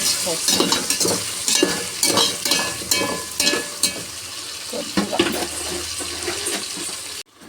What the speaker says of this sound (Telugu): ఆయిల్ వేసి కొద్దిగా ఆవాలు జీలకర్ర వేసి తర్వాత ఎర్రగడ్డ వేసి ఫ్రై చేసుకుంటాం